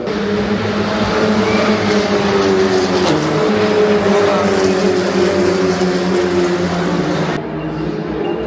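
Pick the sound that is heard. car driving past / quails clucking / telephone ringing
car driving past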